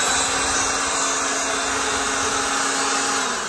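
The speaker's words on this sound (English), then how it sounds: "And as you can see, it does a pretty good job as a leaf blower." An ALLOYMAN cordless leaf blower runs steadily at close range, a loud constant motorized whoosh with a high whine, then eases off slightly at the end.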